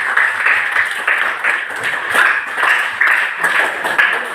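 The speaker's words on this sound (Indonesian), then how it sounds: "Kasih tepuk tangan dulu ya buat teman-teman." Classroom applause from a group of students, a steady patter of many hands clapping at moderate distance, continuous for several seconds without speech.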